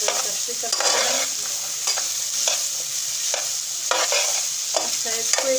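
Grated carrots for gajar ka halwa fry in a pan with a steady sizzle, while a spoon scrapes and stirs them in repeated strokes close up. No one speaks.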